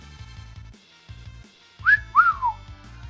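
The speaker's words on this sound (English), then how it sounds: "Whistling as a naked man." A character in a Squaresoft video game whistles a short two-note tune, a rising then falling phrase, clear and bright over a looping low game melody.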